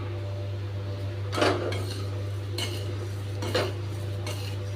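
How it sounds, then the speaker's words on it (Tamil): A spoon stirs flattened rice (aval) being dry-roasted in a pan, giving three separate scraping sweeps with faint metallic contact, spaced over a steady low kitchen hum and no voices. "இந்த அவில் லேசாக சூடார வரைக்கும் வறுத்துண்டா போதும்"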